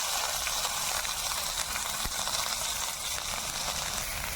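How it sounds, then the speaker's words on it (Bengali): Bay leaf, dried red chili, whole cumin and onion sizzle steadily in hot mustard oil for a fish curry, a dense, close, continuous frying hiss with no talk. "তেল গরম হয়ে গেছে ফোড়নে দেবো তেজপাতা শুকনো লঙ্কা গোটা জিরে করা পেঁয়াজ"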